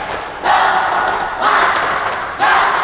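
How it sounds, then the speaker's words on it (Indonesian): Classroom of students at a school volleyball lesson doing a rhythmic spirit clapping chant, loud group bursts of claps and voices in three surging waves. "Bapak ingin mendengarkan tepuk semangat dulu"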